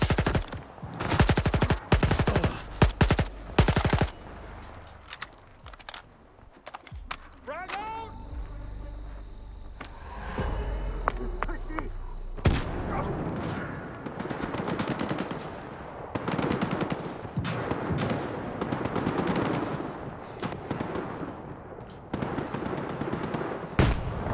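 Video game gunfire in Stalker 2 comes as repeated rapid automatic bursts and single shots, loud and close, over outdoor ambience with chirping insects.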